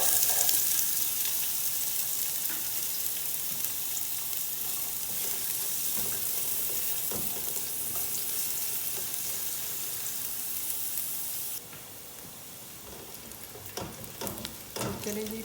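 A small onion fries in half a cup of oil in a pan, giving a continuous bright sizzle with occasional stirring clicks; the sizzle softens slightly near the end.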